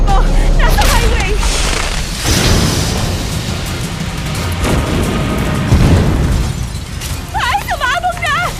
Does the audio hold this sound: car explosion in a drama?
yes